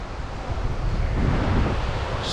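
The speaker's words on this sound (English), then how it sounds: "Fancy having a look at the ocean." Ocean surf on a beach in Thailand, a steady broadband wash of waves with wind buffeting the microphone, fairly loud and continuous with no talk.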